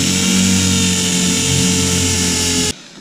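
A power drill, its bit dabbed in oil, bores through the metal emergency roof hatch of a school bus converted into a skoolie, giving a loud, continuous high whine that stops abruptly near the end.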